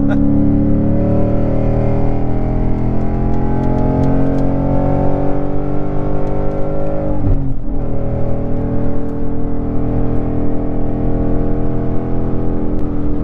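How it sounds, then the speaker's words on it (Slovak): Ford Mustang 5.0 V8 roaring while driving, a loud, continuous, close-up engine rumble rising through the gears with a brief dip at a shift, then climbing again. "je to naozaj ten klasický Ford Mustang zvuk. Naozaj to nehučí, ale to ričí proste"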